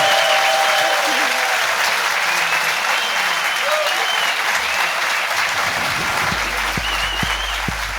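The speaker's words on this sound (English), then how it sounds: "give a massive round of applause to fantastic Louise Wener" Live audience at a comedy podcast recording giving a big round of applause, a full steady wash of clapping that carries on throughout, with a few louder thumps near the end.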